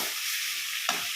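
Tomatoes stirred as they fry in a pan for a tangy coconut-carrot tomato thokku, a steady close sizzle with a sharper scrape of the spoon near the end.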